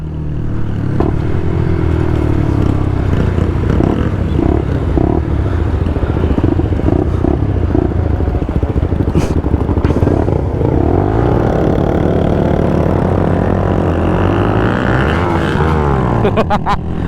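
A motorcycle engine runs steadily in neutral during a group ride, a loud, continuous rumble mixed with wind noise and faint clatter for the whole stretch.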